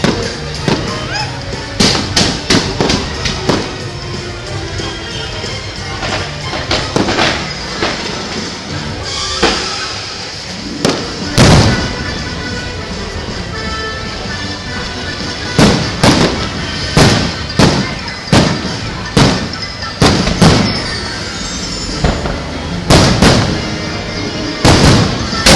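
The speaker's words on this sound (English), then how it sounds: "This is the craziest fireworks show I've ever seen." Fireworks show at Disney World burst right overhead in rapid, loud volleys of cracks and booming thuds, with dense clusters of explosions and brief lulls between barrages.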